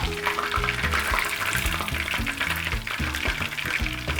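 Tempura pieces of seafood and vegetables deep frying in hot oil give a loud, dense, continuous sizzle and crackle, with music playing beneath.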